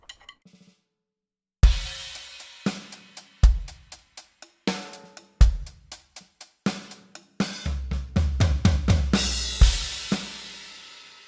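A drum kit plays a steady rock beat, punchy bass drum thumps alternating with sharp snare hits and cymbal taps, building to a busier fill near the end.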